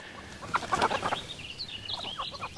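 Several chickens cluck and chatter nearby in short, uneven bursts, fairly quiet and without any talking.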